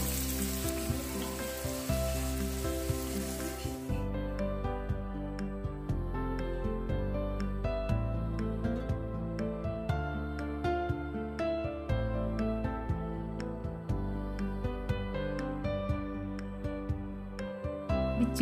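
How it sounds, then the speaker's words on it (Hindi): Chicken pieces frying in hot oil in a pan, a dense continuous sizzle that stays steady and close throughout, with an initial burst of louder crackling as the pieces go in. "तेल गर्म हो गया, भी चिकन पीसेस एक एक करके इसमें फ्राई करके निकालना है"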